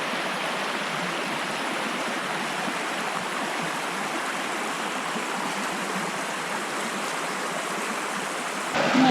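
River water rushes over rocks in a steady, dense roar that fills the whole stretch, loud and close, with no voices over it.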